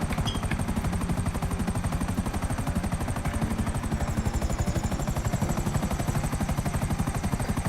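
Helicopter in the GTA 5 video game, a steady rapid rotor chop with a low engine drone, loud and continuous throughout, with no talk over it.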